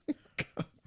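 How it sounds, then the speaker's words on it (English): Three or four short, sharp coughs in quick succession, fairly close and moderately loud, with brief gaps between them. "You're coughing like that."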